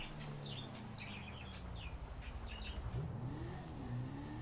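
A car engine in GTA 5 climbs in pitch as it revs through a manual gear shift, dropping briefly and then rising again, steady and fairly quiet, with faint bird chirps in the background.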